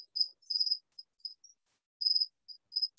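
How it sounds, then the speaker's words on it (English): Crickets chirping in short bursts of high, thin trills with brief pauses between them, fairly close and clear against a silent background. "these crickets certainly haven't been very quiet today"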